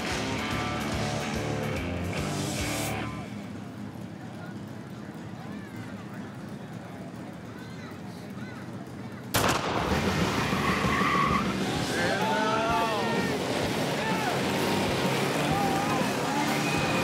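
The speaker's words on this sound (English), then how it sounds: "Racers, start your mowers." Riding lawn mowers race with rough engine drone and tire-skid noise, first fairly steady and then louder and busier partway through, with voices mixed in.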